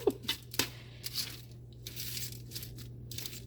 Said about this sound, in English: And then I just kind of shuffle it around, toss it, and all of the flavors.